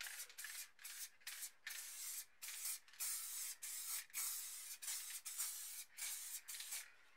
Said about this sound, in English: now we're going to grab the black and we're just going to spray all the background black.